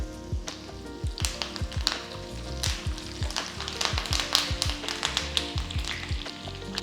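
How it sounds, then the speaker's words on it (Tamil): Curry leaves crackle and sizzle in hot ghee with cashews in a pan just taken off the stove, giving a busy run of sharp pops and spits over a soft frying hiss. "இப்போ இதில் வந்து நான் வந்து கருவேப்பிலை சேர்க்குறேன்"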